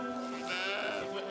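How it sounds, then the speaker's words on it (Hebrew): Several sheep bleat in a pen on a farm, their wavering nasal cries overlapping close by in a continuous chorus. "יש פה דיר כבשים גדול."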